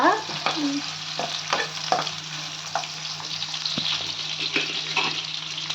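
Onions fry in oil in a small pan with a steady sizzle, broken by close scraping and clinking as they are stirred, without talk.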